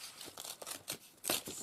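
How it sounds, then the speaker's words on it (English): Mossy coloured paper is ripped by hand in a few short, separate tearing bursts, close and quiet, with one louder rip near the end. "we are going to start with Rips and Tears with this mossy coloured"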